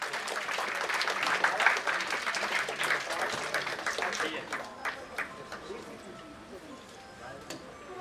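A seated audience at a chartered accountants' celebration gives a round of applause honouring a senior member, fairly loud clapping that thins and fades, with some voices mixed in.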